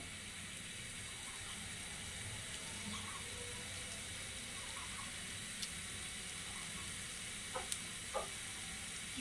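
Thankuni leaf pakoras frying in hot oil give a faint, even sizzling hiss throughout, with a few soft pops and clicks toward the end.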